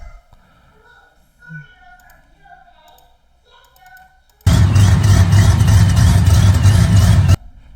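A supercharged 1998 4.6-litre two-valve car engine roars to life at high revs, loud and sustained for about three seconds before cutting off, after a quiet stretch of faint background sounds.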